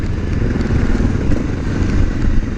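A motorcycle engine drones during a ride while the rider is in the wrong gear, a steady close rumble with wind buffeting against a helmet-mounted microphone and no talking.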